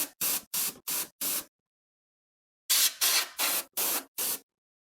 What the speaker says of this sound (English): just spraying my computer and just while it's on